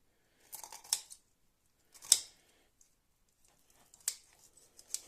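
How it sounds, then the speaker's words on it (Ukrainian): Scissors snip through rabbit meat along the ribs, four or five crisp, separate cuts spaced across a few seconds, close and clear in an otherwise quiet room. "Тепер робота для ножиць. Розпускаю ось цю частину до ребра пополам навпіл."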